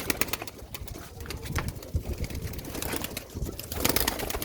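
Pigeons on a rooftop loft coo in low, throaty, rolling calls close by, overlapping and repeating continuously with soft fluttering and shuffling around them, and nobody speaks.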